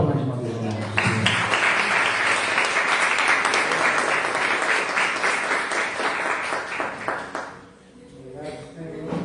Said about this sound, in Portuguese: Aplauda mais uma vez o nome do Senhor.